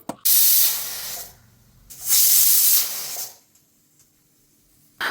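Pressure cooker cooking buffalo meat vents steam through its whistle in two loud hissing bursts, each lasting about a second, separated by quieter gaps.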